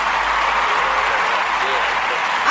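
Audience applause greets guest Jay Hen on the Sister Speak Show, a steady broadband wash of clapping held at even loudness for a few seconds, with voices mixed faintly underneath.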